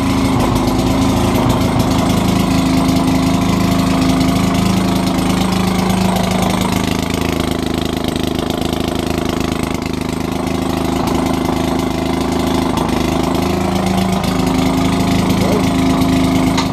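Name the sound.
Maytag 72 gas-powered washing machine engine running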